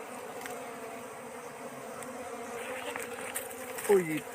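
Bees swarming around a wild honeycomb in the forest, a steady, fairly quiet droning buzz that holds throughout, with a brief sharper tone near the end.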